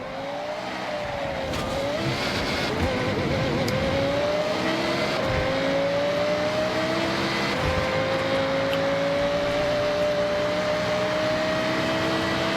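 Engine drone of a car in a driving video game: a loud, continuous rising whine with revving and shifts in pitch, a couple of brief squeals and bumps along the way, and no talking.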